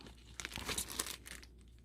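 Gardening forceps pluck and tear lower leaves off a succulent, giving close, soft crinkling and tearing rustles in a short burst, with a few sharper snaps in the middle.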